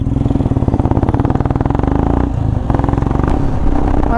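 A motorcycle runs close and loud with a rapid, pulsing engine chug that stays steady throughout, with slight shifts in tone as it rides on.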